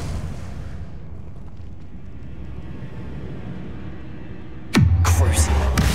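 Spells go off in the Hogwarts Legacy video game: a long rumbling blast fades out, then near the end a sudden sharp explosive burst hits loud with a booming low tail.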